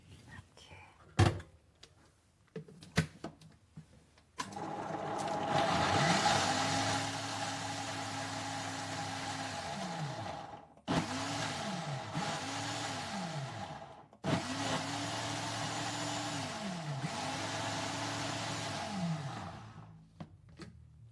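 Electric kitchen grinder pulverising soybeans, loud whirring bursts that start, stop and restart several times with the motor pitch dipping and rising, preceded by a few knocks and handling thumps and some quiet speech.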